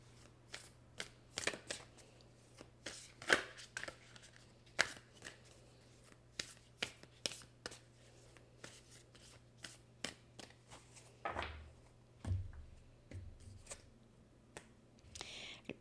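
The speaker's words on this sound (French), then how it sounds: "Je vais aller chercher juste une dernière carte ici avec un message du livre." Oracle cards from a deck are shuffled with a run of crisp, papery riffles and taps coming in short bursts and sharp clicks, close and fairly quiet, with a low steady hum underneath and no talking.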